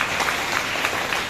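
Dense, sustained applause from a large audience at a Khwab Foundation anniversary event in Motihari honoring the volunteers, loud and continuous with no talking over it.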